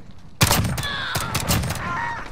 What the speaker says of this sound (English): this fucking pistol is brutal